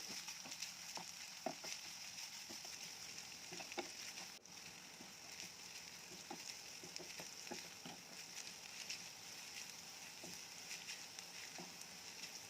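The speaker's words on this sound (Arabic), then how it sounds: "قلبي بقى لحد ما البصله بتاعتك تدبل مع اللحمه" Chopped onion and meat sautéing together in a pan, with a steady faint sizzle and occasional scraping taps of a spoon stirring, no voices.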